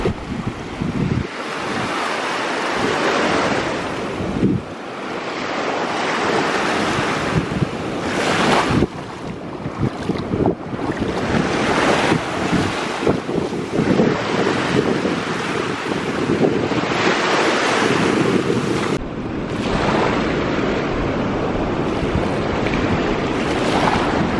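Ocean waves breaking on a Caribbean beach in the Dominican Republic, a loud, steady roar of surf with repeated crashing swells and heavy wind buffeting the microphone, no talk.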